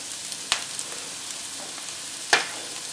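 Chopped onions and ginger sizzle steadily in heated oil for a curry chicken, a soft continuous fry with two sharp clacks of a utensil stirring the pan.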